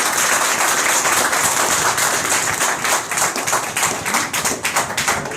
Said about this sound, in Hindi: और मैं चाहता हूं एक बार जोरदार ताली आपने के बजाय।